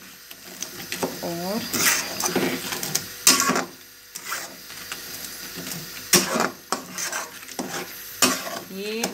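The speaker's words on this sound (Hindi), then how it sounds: "अब हम मुसलसल जो है वो चम्मच इसमें हिलाएंगे इस तरह" A spoon is stirred repeatedly through soaked semolina in a pan for Makhadi halwa, scraping and sizzling in irregular strokes, close and fairly loud, with someone speaking briefly at the start.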